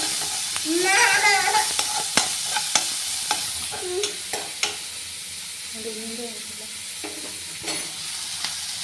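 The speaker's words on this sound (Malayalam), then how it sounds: "കുറച്ച് ഉപ്പോട്ട് കൊടുക്കാം നന്നായി വഴച്ചെടുക്കുക" Onions with salt sautéed in a pan give a steady sizzle, broken by sharp scrapes and taps from stirring, with a few short vocal sounds in between.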